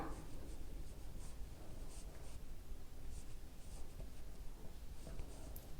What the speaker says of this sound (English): Let's write down them too.